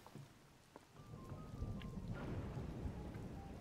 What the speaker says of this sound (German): Da hat ein Blitz eingeschlagen.